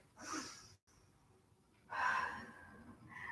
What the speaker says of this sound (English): give me another big deep breath in and out